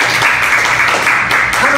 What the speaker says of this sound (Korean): 우리 하나님께 우리 영광의 박수를 한번 돌려드립시다.